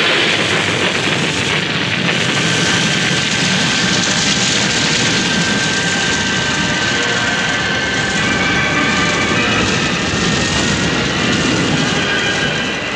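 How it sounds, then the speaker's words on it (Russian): An airliner's jet engines roaring continuously at high power during the takeoff roll, a loud, dense, unbroken rumble and whine heard from inside, steady throughout. "Экипаж, взлетаем."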